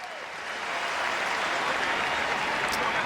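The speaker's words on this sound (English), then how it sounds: "He gets a nice round of applause from both sets of fans." Football fans from both sides applaud at a college championship game in a stadium: a broad wash of crowd clapping that swells early and holds steady, distant and diffuse.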